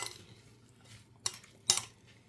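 A spoon stirs lemon juice and olive oil in a coffee cup, tapping and clinking sharply against the sides twice after a soft scraping start; no one speaks.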